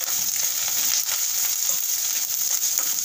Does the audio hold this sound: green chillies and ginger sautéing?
yes